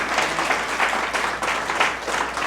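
A church congregation applauding during a sermon, a dense, steady patter of many hands clapping filling the room.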